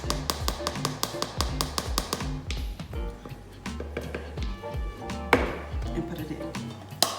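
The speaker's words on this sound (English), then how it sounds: "take a knife, and make sure that you tap it down" A knife taps down flour heaped in a measuring cup, a quick run of sharp, close ticks that slows into scattered, louder taps against the cup.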